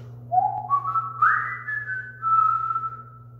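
A person makes a whistle-like mouth sound imitating water drops, sliding upward through a series of pitch steps and then holding a sustained tone, loud and close over a low steady background hum.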